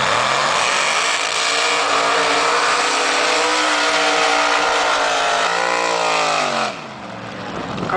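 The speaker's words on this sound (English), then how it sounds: "Good strong burnouts, both supercharged cars." Two supercharged drag racing cars doing burnouts at a Ruapuna drag racing meet, a loud continuous engine roar with sustained tyre screech at full throttle, then dropping in pitch and easing off near the end.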